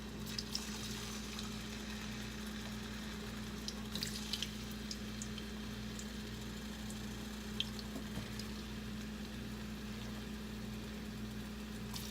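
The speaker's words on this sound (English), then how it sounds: "we're gonna take our potatoes and drop them right into the grease." Potatoes frying in hot grease for a Southern meal, giving a steady, soft sizzle and crackle with scattered pops over a low background hum.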